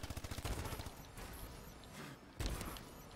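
Automatic gunfire in the Call of Duty: Advanced Warfare shooter game, faint rapid bursts of shots at the start and again near the end, with a dense mix of battle noise between them.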